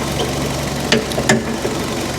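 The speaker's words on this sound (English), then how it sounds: "Engine runs smooth." Car engine idling steadily under the hood of a salvage-auction vehicle, a low continuous hum with a couple of brief clicks, fairly close and even.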